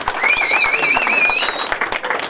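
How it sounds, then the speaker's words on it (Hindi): Applause for an adventure riding group at a motorcycle ride event delivering rakhis for the Indian Army, with continuous crowd clapping throughout, a whistle rising over it and voices mixed into the noise. "उसके लिए भी बहुत सारा ताली मार रहा है"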